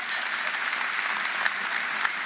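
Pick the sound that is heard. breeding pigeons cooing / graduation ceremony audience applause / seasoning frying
graduation ceremony audience applause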